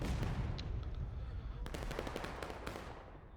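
Distant artillery and rifle fire in a Civil War multiplayer battle game, a continuous rumbling barrage with scattered sharper cracks layered over it, moderately faint and steady throughout.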